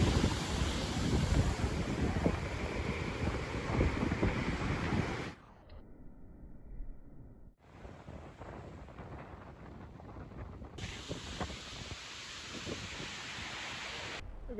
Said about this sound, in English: There's a bit of a wind.